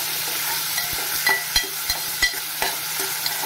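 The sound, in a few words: onion frying in a pan on high gas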